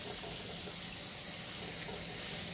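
A kitchen faucet runs steadily into a pot of potatoes being filled with water for soup, a soft continuous splashing hiss close by with no talking.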